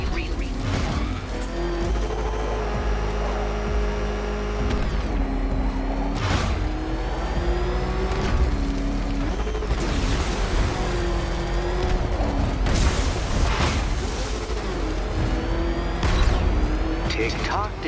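The Batmobile's engine in Batman: Arkham Knight revs and roars steadily throughout, with rising and falling pitch sweeps and occasional heavy thumps, under continuous voice-over dialogue.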